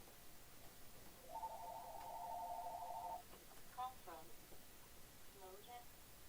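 A telephone rings in one sustained warbling burst in an office setting, followed by brief chirpy tones, fairly clear over a quiet background.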